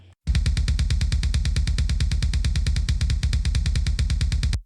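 A steady, rapid stream of two layered punchy electronic kick drum samples with deep booming low end and a sharp click on top, repeating evenly and loud.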